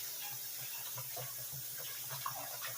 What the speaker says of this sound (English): Let's do one more rinse.